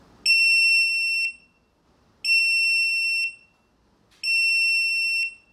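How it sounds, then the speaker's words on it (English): Three identical electronic beeps from an Orico hard drive cloner signal a finished clone, each about a second long, at even intervals in a quiet room. "The 3 beeps that we just heard means that the clone is finished."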